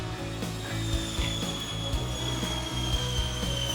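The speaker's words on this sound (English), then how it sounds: "slide it in from the top or the bottom and it just clicks in" SwiftWall Click wall panels sliding into their joiner and snapping in without tools give rapid ratchety clicks and knocks, close and steady, over a low constant hum, with no talking.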